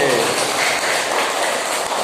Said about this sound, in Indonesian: tepuk tangan buat yang laki-laki.